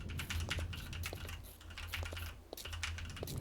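Rapid clattering keystrokes on a computer keyboard, picked up by a Maono PD300X USB microphone, close and continuous with a brief lull midway, no voices.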